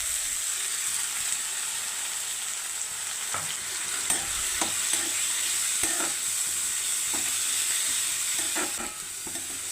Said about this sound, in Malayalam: ഇനി നമുക്ക് അരിഞ്ഞ് കഷ്ണങ്ങളാക്കി വെച്ചേക്കുന്ന പപ്പായ ഇട്ട് കൊടുക്കാം. അതിൻ്റെ കൂടെ നമുക്ക് പയറും ഇട്ട് കൊടുക്കാം.